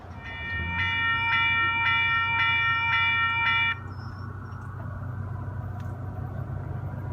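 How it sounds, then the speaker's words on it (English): A train rumbles steadily nearby while a loud multi-tone horn blasts in several pulses, then cuts off, leaving the continuous low roll of the cars. "waiting for the train to pass"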